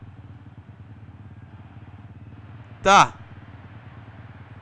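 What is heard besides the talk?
motorcycle engine idling in a PS4 video game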